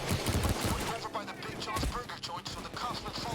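Automated turret gunfire in Payday 2 with rapid bursts of shots mixed into busy game noise, while a player talks excitedly over the shooting.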